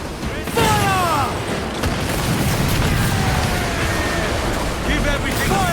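Ship cannons firing in Assassin's Creed Black Flag during a naval battle, a dense roar of booms and rumbling water and wind throughout, with shouted commands and talk over the top.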